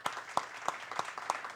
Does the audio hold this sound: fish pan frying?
no